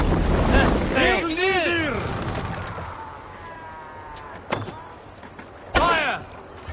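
Wind and rushing waves around a sailing ship in Assassin's Creed Valhalla, with shouted voices of crew and a loud splash or crash near the start and another near the end.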